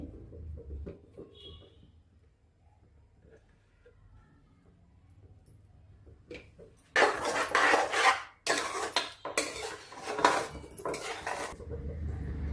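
After a quiet stretch, a spoon works mashed carrot halwa and ghee in a metal pan with loud, close scraping and clattering strokes in bursts.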